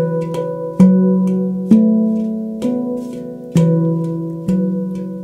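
A handpan repeats a simple melody, with evenly spaced low strikes about once a second. Quicker light taps between them ring on, clean and close with no voices.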